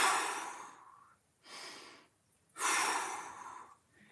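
Deep, audible breaths during a mobility stretching session come as a long breathy exhale, a shorter breath, then another long, forceful exhale, all close to the microphone with quiet pauses between.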